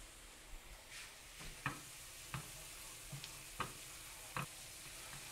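A spoon stirring roasting garlic in a pan, with soft scrapes and taps arriving every half second or so over a faint background sizzle, close and quiet, no voices.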